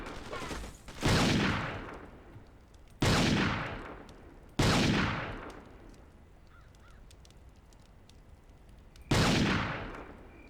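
Gunfire in the Ghost Recon video game, four separate loud shots at uneven intervals, each a sharp blast with a long echoing tail over a quiet outdoor backdrop.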